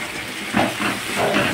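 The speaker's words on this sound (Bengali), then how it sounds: "এবার আমি এই যে তোমার পোস্ত চাল মগজ সর্ষে বাটাটা এর মধ্যে দিয়ে দিচ্ছি। এই যে ঢেলে দিলাম," Poppy seed and white mustard paste poured into a hot pan gives a steady sizzling hiss, swelling in short waves, close and moderately loud.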